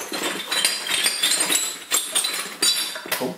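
Small glass whisky sample bottles clink and rattle against each other as they are shuffled together, a busy run of close, bright knocks and chinks with no talking.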